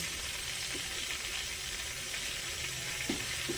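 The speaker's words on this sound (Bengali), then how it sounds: "এবার ওই বাটারে 2টো তেজপাতা দিলাম আর গোটা গরম মশলা দিয়ে দিলাম" Faint, steady sizzling of bay leaves and whole spices (cloves, cardamom, cinnamon) frying in butter in a pan, with a couple of small clinks partway through.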